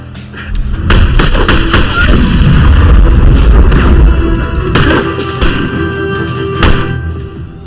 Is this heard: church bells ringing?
no